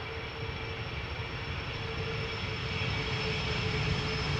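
An Airbus Beluga cargo aircraft at Amsterdam Schiphol Airport, heard as a steady, broad jet engine roar with a faint high whine, holding constant throughout without pauses or voices.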